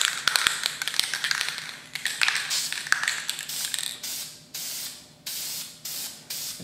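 Short bursts of VHT spray paint hissing from an aerosol can onto motorcycle front forks, a few taps early on, then several separate close sprays with brief pauses between them.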